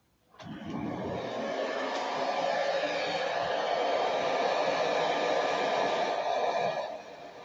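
A heat gun blows hot air in one steady, loud whoosh lasting several seconds during work on a Tucker, starting abruptly and cutting off near the end, with no talk.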